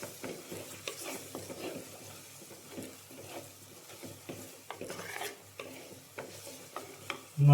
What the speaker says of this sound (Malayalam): ഈ മല്ലി നന്നായിട്ട് മൂക്കണം